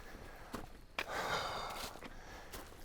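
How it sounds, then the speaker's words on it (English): A person lets out a heavy, wheezing breath after hiking up a steep trail incline, a close, rough exhale that swells and fades with a couple of footstep scuffs around it. "I'm already wheezing."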